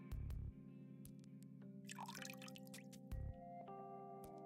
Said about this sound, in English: The sound of a running faucet can be heard from the bathroom.